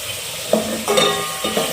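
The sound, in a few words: cumin and onions frying in oil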